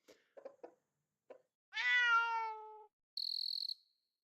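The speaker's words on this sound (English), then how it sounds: "Chicken, cat, crickets." Chicken, cat and cricket sound effects from a puzzle video game: a few short clucking blips, then a long drawn-out meow, then a rapid high chirping cricket trill, each separate and clear with no talk.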